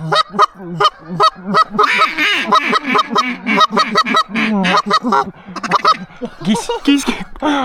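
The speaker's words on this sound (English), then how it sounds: "Geese." Geese honk loudly over a frozen river during a duck hunt, a close flock calling in overlapping bursts, with occasional quacks mixed in.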